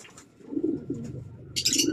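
Pigeons coo softly in low, rolling murmurs, joined by a brief higher chirp near the end.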